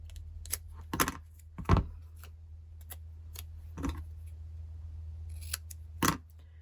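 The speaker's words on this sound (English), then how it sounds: "I'm going to take some tape and I'm going to cut it" Scissors cutting through tape, heard as a handful of crisp, close snips spaced irregularly over several seconds against a quiet, low background hum.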